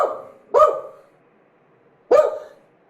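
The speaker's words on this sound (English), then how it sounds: "Then the dog will bark." Two sharp, loud dog barks about one and a half seconds apart, each fading quickly, used as an edited sound effect with no talking.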